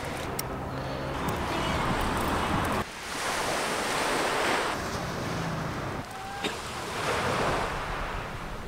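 Sea waves wash onto the shore in steady surges, with wind buffeting the microphone; the broadband roar swells and drops back in several cycles, loud and close, with no talking.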